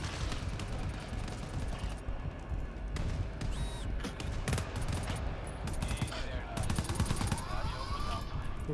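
An automated sentry turret machine gun in the game GTFO fires sustained bursts of rapid, close gunfire, mixed with other combat clatter and short pauses, while people talk over the fight.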